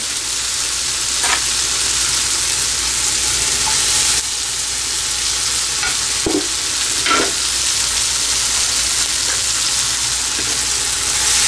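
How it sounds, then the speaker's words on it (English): Fried shrimp tipped into a pan of cooked onion, tomato and green pepper for a prawn curry, giving a steady loud sizzle with a few short stirring scrapes and spatula knocks, close and without talk. "Now I'm going to add um, our fried shrimp."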